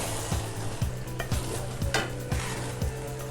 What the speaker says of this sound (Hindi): एक दफ़ा हम इसको मिक्स कर लेते हैं अच्छी तरह से।